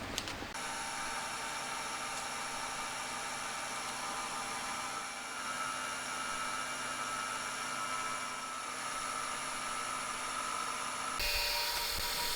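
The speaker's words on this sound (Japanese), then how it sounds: "センタードリルで穴開けてきます" A steady high-pitched whine of a center drill drilling holes in a metal cylinder head cover, running continuously with a constant mechanical hum underneath, then shifting tone briefly at the end.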